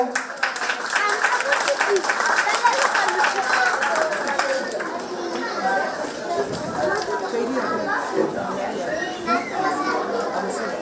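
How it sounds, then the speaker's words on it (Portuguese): Applause and clapping from an audience at a neighborhood center ceremony, with children's voices and chatter mixed in; a dense, sustained wash of claps that eases slightly in the second half. "para receber o buki, um aplauso."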